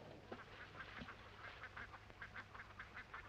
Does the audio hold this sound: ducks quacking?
yes